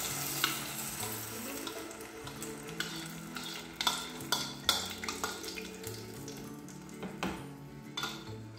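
Beans fry in melted lard in a pan, giving a soft sizzle broken by several sharp clinks and stirring scrapes.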